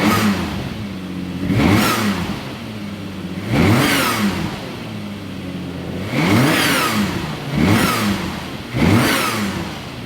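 A sports car's engine fires up and revs hard five times in steady succession, each loud, close rise and fall sitting over a rumbling idle, with no voices.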